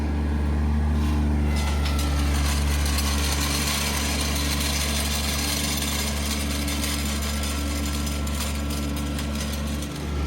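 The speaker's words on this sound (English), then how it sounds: "This little tractor is working pretty well." Small heavy-duty tractor running steadily on a lawn, a continuous close engine drone with little change in pitch and no voices.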